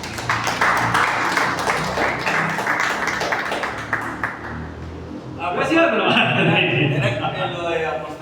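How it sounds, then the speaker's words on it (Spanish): A church congregation claps for about five seconds during a sermon, a dense crackle of many hands that gives way to someone speaking loudly afterward. "Denme un aplauso al Señor."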